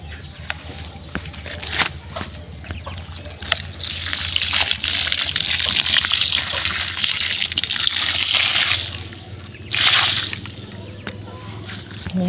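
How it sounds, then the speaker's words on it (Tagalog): Water pours onto a newly planted calamansi, a steady close gush and splash that swells for several seconds, with brief trickles and surges before and after; a voice speaks intermittently. "Natin namang diligin ng tubig."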